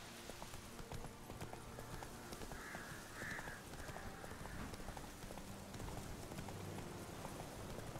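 Roach, the horse in The Witcher 3, clip-clops along with a steady, continuous rhythm of hooves, faint and low in level, with a soft brief call rising in the background partway through.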